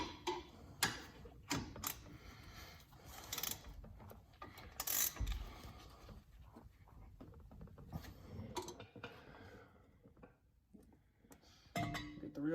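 A hand ratchet clicks in quick bursts on a 15 millimeter bolt of the parking brake caliper on a 2020 Corvette C8 Z51, with metallic tool clatter and pauses between strokes, fairly close and moderately quiet.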